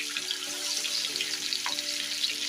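Masala-coated fish sizzling in a pan of hot oil: a steady, close, hissing crackle that holds evenly throughout, with a few brief scrape-like accents and no talking.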